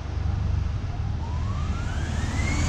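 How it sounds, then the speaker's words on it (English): The 110-volt AC suction motor of a Graphtec FC2250-180 large flatbed plotter cutter table runs as a steady, close whooshing drone. A rising whine climbs in pitch as the motor spins up, with no talking. "The motor, suction motor is powered on 110 volts AC."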